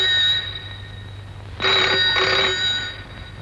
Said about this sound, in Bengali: আমি ফোনটা ধরবো?